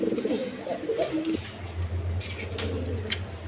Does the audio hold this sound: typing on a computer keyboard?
no